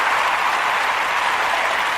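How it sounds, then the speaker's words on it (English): Brief dense clapping from an audience greeting a guest, a steady wash of applause lasting about two seconds with no voices over it. "Let's give her a round of applause"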